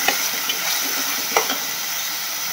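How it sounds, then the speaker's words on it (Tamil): Onions and curry leaves sauté in hot oil, giving a steady close hiss with a few light stirring clicks from the pan, no voices. "கருவேப்பிலையும் பிச்சு போட்டு அதையும் வதக்கிட்டுருக்கேன்."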